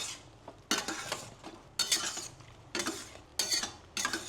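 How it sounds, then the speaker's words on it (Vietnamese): Sea cucumber and peas being stir-fried in a pan, with a utensil scraping and stirring in regular strokes about once a second, each a close, rough swish over a low sizzle, no voices. "Và mình xào thêm 2 phút nữa"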